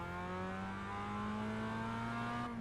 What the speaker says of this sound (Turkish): Arabanın devri birden düştü ve yavaşça yükseliyor